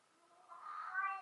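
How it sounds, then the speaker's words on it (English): A pet cat indoors gives one short, rising meow, fairly soft and close by. "My kitty is talking."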